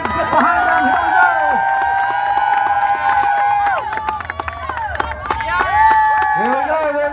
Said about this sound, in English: They're cheering for you guys.